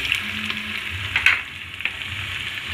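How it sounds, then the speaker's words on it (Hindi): Chopped vegetables and carrots fry in a pan, a steady close sizzle with brief stirring scrapes over it and no talking. "अब हम इसमें अपनी कटी हुई सब्जी डाल सकते हैं फिर हमने गाजर डाल दी"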